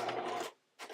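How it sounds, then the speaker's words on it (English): Sewing machine running a straight stitch through stacked bra fabric and foam padding layers, a steady close mechanical whir that stops for a short pause and then starts again briefly. "So switching back to a straight stitch, and we're stitching through all of these layers"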